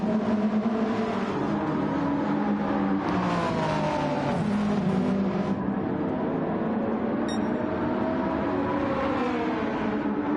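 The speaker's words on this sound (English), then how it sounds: "Odin in behind, BMW leading, Banana Cake Pie in the second BMW on track at the moment." Race cars, a BMW in the lead, lapping the track in a racing video game at Watkins Glen: steady engine whine with rising and falling revs as cars accelerate and shift, continuous and moderately loud.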